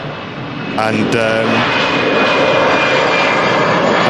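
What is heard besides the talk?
EasyJet jet airliner taking off at Manchester Airport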